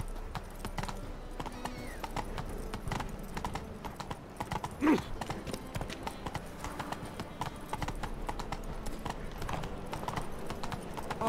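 Geralt's horse Roach in The Witcher 3 clip-clops steadily at a gallop across the whole stretch, hoofbeats near and even over a busy game soundscape, with a short snort or whinny about midway.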